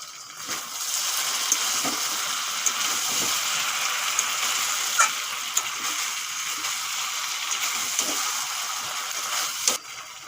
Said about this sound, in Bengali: একটা ইঁচড় অনেকক্ষণ ধরে কষাতে হবে আস্তে আস্তে জালে কষিয়ে নেবো অনেকক্ষণ ধরে